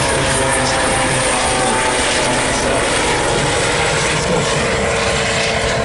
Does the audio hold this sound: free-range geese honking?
no